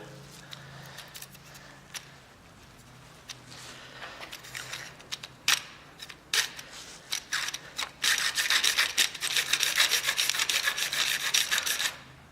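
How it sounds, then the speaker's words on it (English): Hacksaw blade cutting through a fuel sender from a Caprice fuel pump, starting with irregular scraping strokes, then settling into steady rapid rasping saw strokes up close with no talking. "Maybe this hacksaw blade will do it."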